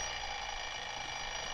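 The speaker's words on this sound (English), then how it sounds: "I set my alarm for 5 the next morning." An alarm clock going off early in the morning, a steady continuous ringing that holds level throughout with no talk over it.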